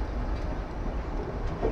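A train rolls into Asansol station with a steady, close rumble of carriages and wheels that holds even and unbroken throughout.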